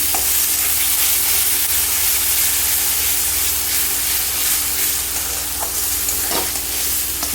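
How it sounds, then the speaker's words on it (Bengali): Shredded cabbage for bhorta fries in a hot pan until it turns red. A loud, constant sizzle and hiss runs throughout, with occasional stirring scrapes close by and no talking. "কারণ এটাকে আমাকে পুরো লাল করে ভাজতে হবে"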